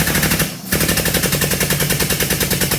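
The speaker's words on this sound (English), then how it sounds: "Let the old air compressor catch up a minute." A small air compressor runs steadily with a fast, rapid pulsing chug, loud and close, cutting out briefly before resuming its continuous rhythmic pumping.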